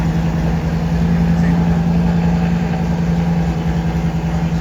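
An Audi RS idles at a car meet, giving a loud, steady low rumble with a constant droning hum that holds evenly from start to finish.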